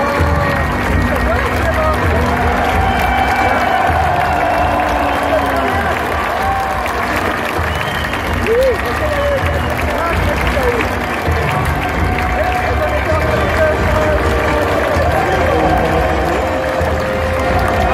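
A large crowd at a city celebration in Reims applauds and cheers to welcome a team onto a podium, a dense, continuous wall of clapping and crowd noise that holds steady throughout.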